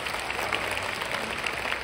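A seated audience at a formal event gives warm applause, a dense, even wash of many hands clapping that holds steady at moderate volume from start to finish.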